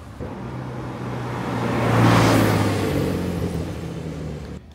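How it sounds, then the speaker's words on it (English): Cars pass along a road, captured outdoors by a small handheld camera's built-in mic; one vehicle approaches, swells loudly with a low engine hum and tire roar, then fades away. "This is back with the onboard mic, with cars passing around, no editing."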